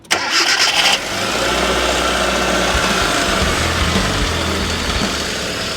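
Yellow Bee vehicle's engine cranks briefly, then catches and settles into a steady, loud idle that runs on without a break.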